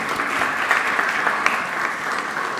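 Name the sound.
audience applause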